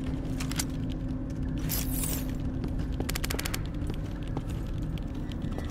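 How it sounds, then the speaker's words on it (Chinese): Rapid indoor gunfire bursts echo in the horror video game Kinki Spiritual Affairs Bureau, with clusters of sharp shots over a constant low game ambience and hum. "室内枪声比较大"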